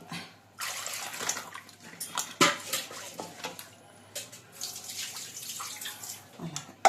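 Peeled, boiled taro roots are rinsed in fresh water in a vessel, giving close splashing and sloshing with occasional clinks of the container.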